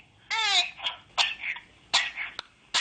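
A person coughs repeatedly, several short throaty bursts spaced irregularly over a few seconds, fairly close, with no other talk between them.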